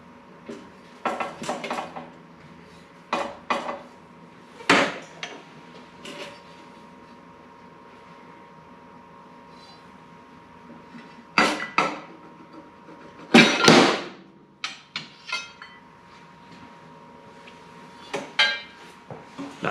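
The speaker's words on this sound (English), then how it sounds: "be able to shimmy this rotor out of place" Metal clanks and scrapes from a brake rotor being worked loose off the front wheel of a 1979 Harley-Davidson Shovelhead FLH, with scattered sharp knocks and a couple of louder bursts of rattling metal against a quiet workshop background.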